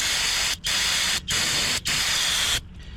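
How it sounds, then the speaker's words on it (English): A can of brake cleaner sprays in four hissing bursts, each about half a second apart, with short pauses between, close and loud. "I'm going to go ahead and spray it off with some brake clean"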